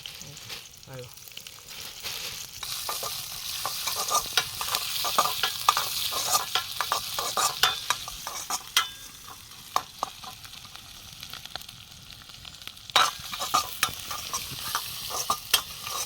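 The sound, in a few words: onions frying and being stirred for egg chicken fry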